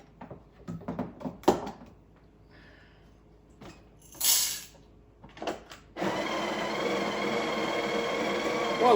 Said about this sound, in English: While it's grinding, I'm gonna go get some milk